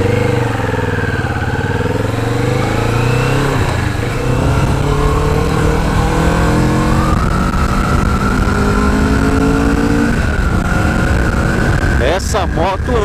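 A Kawasaki Vulcan S 650 motorcycle being ridden gives a continuous, loud engine drone with shifting pitch and wind rush, while a voice talks over it.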